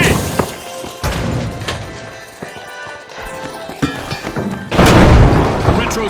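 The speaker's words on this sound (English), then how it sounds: "Two grenades hit!" Grenade blasts in The Finals multiplayer shooter: sharp explosive booms and thuds amid busy gunfire and impacts, ending in a loud, dense crash near the close.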